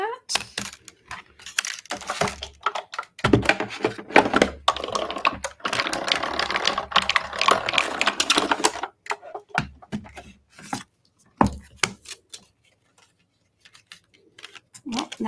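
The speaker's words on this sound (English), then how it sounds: "Okay, die cut that." A die cutting machine runs a cardstock frame through its rollers, producing a steady mechanical grinding and clicking for several seconds, with brief cranking noises and a pause before and after.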